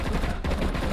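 Light machine gun fire in a video game, a loud continuous burst of rapid shots filling under a second without pause.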